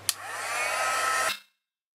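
A heat gun blowing hot air onto paper before embossing, switched on with a click, running as a steady, close whooshing whir for just over a second, then cut off abruptly into silence.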